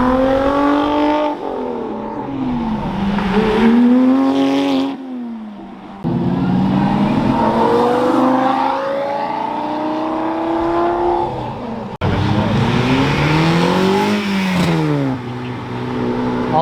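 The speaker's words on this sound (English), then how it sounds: "Twin turbo 458." A twin-turbo Ferrari 458 sports car with an aftermarket exhaust revs hard and close, its engine note climbing and falling in repeated loud sweeps, cutting out briefly between bursts, with no voices.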